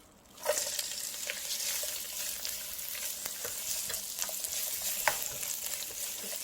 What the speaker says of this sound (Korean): 이제 달궈진 팬에 파기름을 낼게요.